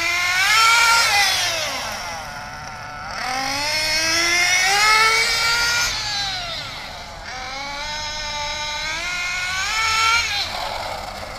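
A small engine being broken in on a Tessmann run is throttled up slowly to about three-quarter power, its whining pitch climbing in three long swells, loud and close with no voices.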